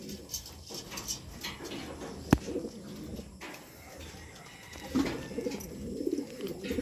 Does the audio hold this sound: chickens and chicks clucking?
no